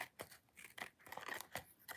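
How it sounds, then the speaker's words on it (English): Old scissors snipping through glue-coated patterned paper, several distinct close cuts in an uneven rhythm with faint crinkling between them. "I'm going to take some scissors that are old and I don't care about the glue getting on them."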